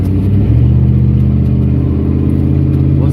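A pickup truck's engine running close by, a loud, steady low-pitched drone with a slight rise in revs early on and no talk over it.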